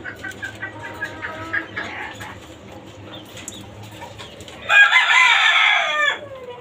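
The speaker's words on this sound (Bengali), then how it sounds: "এই যে দেখেন আমার লাল মোরগটা" A red rooster kept in a caged rooftop chicken farm crows once, loud and close, after a stretch of quieter clucking and hen chatter in the background.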